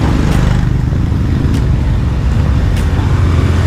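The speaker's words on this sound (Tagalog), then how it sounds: "Busy road to madaming na sasakyan na nadaan." Busy roadside traffic on a Sunday, with cars and motorcycles passing close by in a continuous loud rumble of engines, occasional brief horn-like or tire accents rising over the steady roar, no voices.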